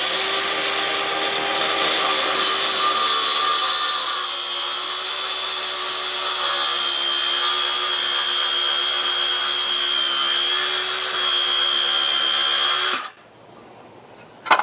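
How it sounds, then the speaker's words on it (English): A power saw plunge-cuts into a rotten wooden deck board, giving a loud, steady motor whine and cutting roar for about thirteen seconds before it abruptly stops. "lift it off, pull the trigger, and then make a plunge cut."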